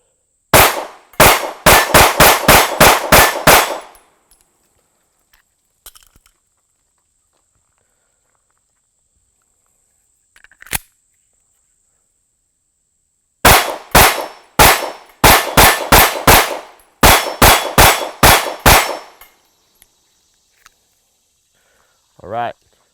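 A Sig P365 pistol fires in rapid strings of sharp, loud cracks: one quick burst, a lone shot after a quiet gap, then two more fast strings, with near silence between.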